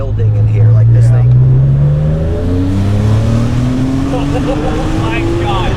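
A rebuilt Porsche 987 with a 4.1-litre turbo engine accelerating hard, a loud close roar climbing steadily in pitch through a gear change and then rising again.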